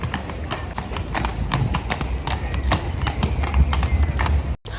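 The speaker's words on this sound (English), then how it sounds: "In Krakow you can also be riding by horse." Horse hooves clip-clopping steadily on the cobbled Market Square in Krakow, a crisp, even rhythm of sharp strikes close by, with distant crowd murmur underneath.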